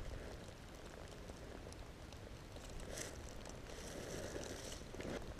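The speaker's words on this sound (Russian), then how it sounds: "И дождь идет, а мы на лыжах." Steady rain patters on ice during a February winter fishing trip, a continuous soft hiss of drops with a few brighter taps, fairly quiet and with no one speaking.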